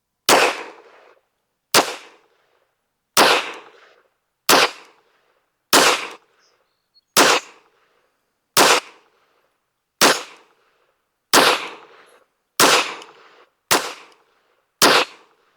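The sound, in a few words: gunshots from Smith & Wesson M&P 22 Magnum pistol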